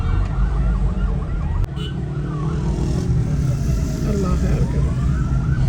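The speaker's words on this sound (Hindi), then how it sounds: "हर तरफ एम्बुलेंसेस की आवाज़ें आ रही हैं।" Ambulance sirens wail outside in a city street after a suicide attack in Islamabad, a steady wash of distant siren and traffic noise running throughout while a person speaks briefly over it.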